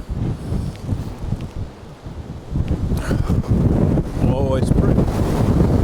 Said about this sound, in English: That wind is pretty bad.